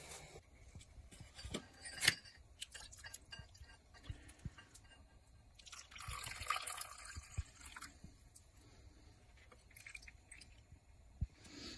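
Liquid dripping and trickling while a gold refining solution is filtered, with soft splashes, scrapes and a louder wet passage midway, close and fairly quiet, with no talk.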